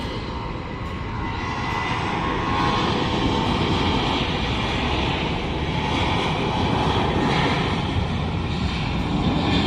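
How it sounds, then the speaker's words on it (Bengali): A Biman Bangladesh Airlines Boeing 737 airliner roars steadily overhead, a broad, loud rumble that holds at constant strength for the whole stretch, with no voices. "বিমান বাংলাদেশ এয়ারলাইন্সের বোয়িং সেভেন থ্রি সেভেন মডেলের এই বিমানটি থাইল্যান্ডের উদ্দেশ্যে উড়ে যাচ্ছে"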